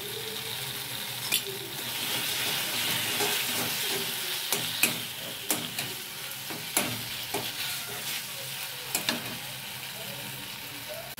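Cumin-ginger paste being stirred into cooked-down tomato paste in a frying pan, a steady sizzle broken by a series of sharp spoon scrapes and taps against the pan.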